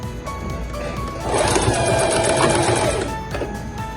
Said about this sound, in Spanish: voy a coser alineando la costura anterior con el pie de la máquina